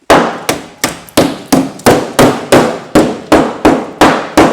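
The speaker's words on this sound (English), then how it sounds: "That's me toffee hammer." A toffee hammer striking the fiberglass boot floor of a Mercedes W123 in about fourteen sharp, evenly spaced blows, each loud, close and quickly decaying.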